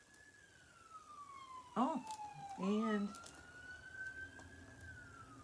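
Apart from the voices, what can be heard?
ambulance siren passing by outside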